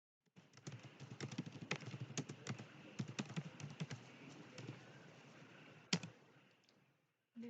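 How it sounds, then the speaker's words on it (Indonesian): Someone types a name on a computer keyboard. The keystrokes come as close, moderately loud clicks in an irregular run for about six seconds, with a pause and one louder tap near the end. "lalu saya ketik nama saya"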